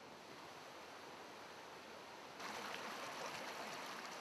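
Stream runoff at the base of Bridal Veil Falls in Yosemite rushes steadily under a bridge, a faint broadband wash of water that swells slightly partway through.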